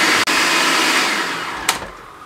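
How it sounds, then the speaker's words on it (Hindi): An electric kitchen chopper whirs steadily while finely chopping bread pieces, a loud, continuous motor drone with a brief dip early on and a short knock near the end. "इसको हम यहाँ पे चॉपर में डाल देंगे। इसको बारीक चॉप कर लेंगे इस तरीके से"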